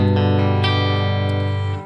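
A Squier Telecaster hardtail electric guitar on its bridge pickup gives a bright, clean sustained chord ringing out loud and steady, with a couple of light re-strums, then cutting off near the end.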